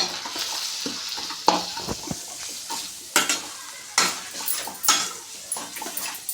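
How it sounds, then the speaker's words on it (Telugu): Chicken with masala and salt frying in a pan, a soft sizzle under repeated sharp scrapes and clinks of a spoon stirring against the pan, irregular and close. "చికెన్ మసాలా సాల్ట్ కొంచెం ఇప్పుడు వేయించుకోవాలి"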